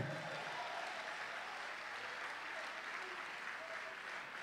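A church conference audience in Abidjan applauds steadily for Jesus, a dense sustained wash of clapping that fills the room evenly, with faint voices mixed into the crowd.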